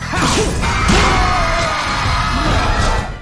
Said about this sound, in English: you level up to the sound of thunderous applause